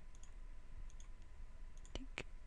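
A couple of sharp computer mouse clicks in quick succession, close and quiet, as statistics options are switched off in software during a math lecture, over faint room hum.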